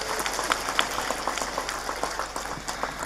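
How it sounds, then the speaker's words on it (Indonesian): A village crowd in Bubutulan applauding steadily, many hands clapping together in a dense, continuous patter heard from a moderate distance. "Saya minta tepuk tangan dulu dong"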